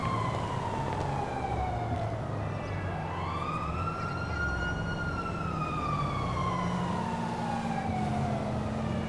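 A fire truck siren in the video game GTA 5 wails steadily, rising and falling in long sweeps over a constant engine rumble, loud and close throughout.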